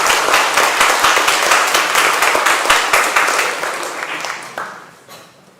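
A church congregation claps together in a steady rhythmic beat, loud and close, with a few voices mixed in, before the clapping trails off and fades at the end.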